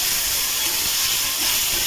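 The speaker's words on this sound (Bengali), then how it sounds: "তেল দিয়ে এই যে সবজিগুলো এবার ভেজে নেব ভালো করে।" Vegetables frying in oil in a pan for an oats recipe, a loud, steady broadband sizzle with no breaks, close up and alone without any talking.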